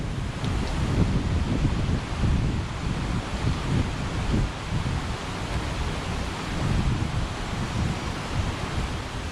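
Hangover Creek flows past a forest trail crossing in the Joyce Kilmer-Slickrock area, a constant, full rushing wash of water that stays steady and fairly loud throughout, with no talk.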